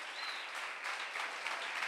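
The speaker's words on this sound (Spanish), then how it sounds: "Un aplauso al Señor" A church congregation applauding during a missionary service, a steady wash of many hands clapping across the room, even and sustained without talk.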